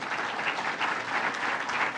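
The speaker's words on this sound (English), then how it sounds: "let's give him a round of applause as well." Steady applause from a crowd at a New York governor's budget address, continuous and fairly loud throughout, with no talking over it.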